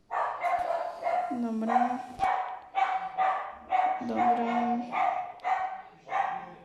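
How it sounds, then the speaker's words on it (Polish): A pet dog barks over and over indoors in a fast, steady run of about nine sharp barks. Someone talks briefly under the barking. "niech nie szczeka ten pies"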